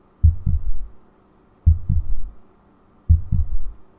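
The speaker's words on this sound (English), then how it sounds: "I think the heartbeat's starting to get a little quicker with the stress going up" A heartbeat in the video game Together, beating in three clear lub-dub pairs at a steady, slightly quick pace, low and thumping, alone without talk.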